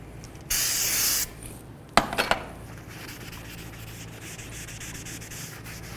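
A new front brake rotor for a 2013-17 Honda Accord is cleaned: a short hissing spray, then a few sharp handling knocks, then quiet continuous rubbing across the braking surface.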